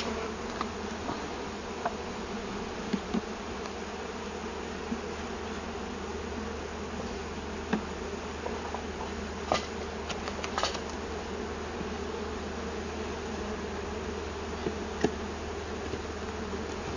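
A steady, dense hum of many bees buzzing together, close and continuous, with a few brief louder buzzes as individual insects fly near.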